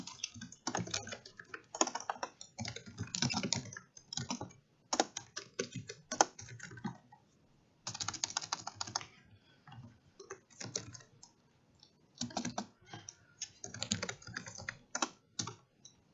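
Code typed on a computer keyboard, with close, clattering keystrokes in fast bursts separated by brief pauses, fairly quiet and with no voices.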